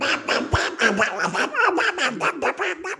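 A cartoon duck quacking in a rapid, raspy, chattering stream of nasal squawks, close and continuous, sounding like a voiced character.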